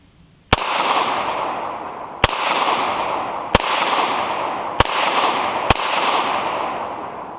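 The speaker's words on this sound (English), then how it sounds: "we're gonna take 5 shots from 10 yards" Five sharp gunshots fired at a target from 10 yards, loud and close, spaced roughly one to two seconds apart, each followed by a long ringing echo.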